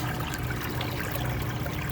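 Water flows steadily through a single-pipe shower drain filter setup, a continuous gurgling trickle with bubbly splashing, close and fairly loud with no voices.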